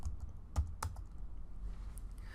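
A computer keyboard typing a terminal command, heard as a few soft, separate key clicks that are faint and close, over a quiet background hum.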